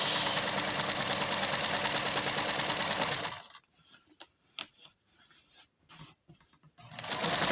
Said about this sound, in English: Stitch is better with a double stitch.